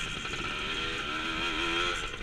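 A 100cc dirt bike engine revs nearby in a steady, buzzing drone that rises slightly in pitch, loud and continuous with no talk over it.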